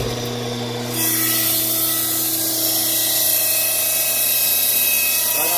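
A pump pushes waste vegetable oil through a sediment filter for a diesel, a loud continuous mechanical whine and hum that shifts pitch after a second and then runs steadily throughout.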